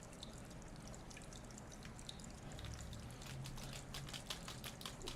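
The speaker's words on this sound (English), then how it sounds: "Have you guys been enjoying the soothing sounds of the water dropping?" Water drips and trickles in a video game, faint scattered droplets falling at irregular moments over a soft, steady background hiss.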